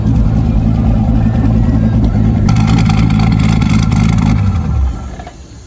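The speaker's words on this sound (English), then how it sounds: "the turbos are going crazy right now" A Chevrolet Silverado truck engine roars close by under strain, with the whooshing whine of spooling turbos riding over the rumble, then winds down and fades near the end.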